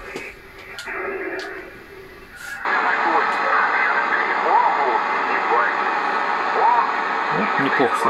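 Degen 1103 PLL radio receiver at maximum volume on a weak signal: a brief muffled stretch, then a steady band of static with a faint, wavering voice buried in the noise.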